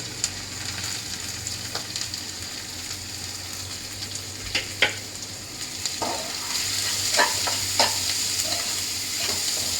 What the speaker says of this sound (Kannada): ಅದೊಂಚೂರು ಫ್ರೈ ಆದಮೇಲೆ ಸ್ವಲ್ಪ ಈರುಳ್ಳಿ,